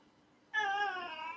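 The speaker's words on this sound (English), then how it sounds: "Oscar, meow, meow." A single cat gives one clear, drawn-out meow after a moment of near silence, close and moderately loud, with no talking.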